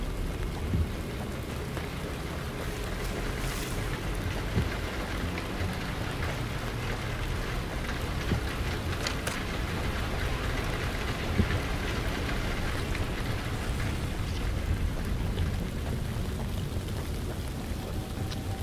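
Steady, dense rainfall in the horror mystery video game The Land of Pain, a constant hiss of drops on surfaces with faint low rumbles, continuous and without talking.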